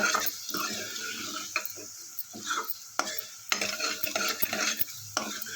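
Bottle gourd sambar masala is stirred in hot oil, with intermittent scraping strokes of a spoon against the pan over a soft sizzle, close and fairly quiet.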